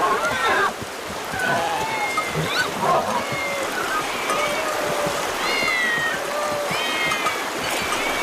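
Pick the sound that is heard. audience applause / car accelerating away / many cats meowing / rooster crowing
many cats meowing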